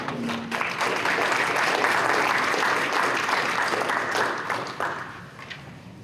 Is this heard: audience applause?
yes